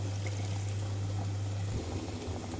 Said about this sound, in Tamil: தண்ணி ஆட் பண்ணிக்கலாம்.